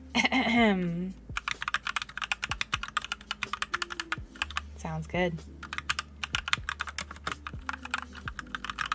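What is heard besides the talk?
typing on a newly built custom mechanical keyboard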